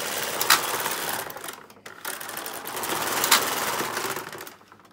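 A Bond Elite knitting machine carriage slides across the row, giving a continuous close scraping, clattering rasp with a brief dip midway and a clicking accent near the end.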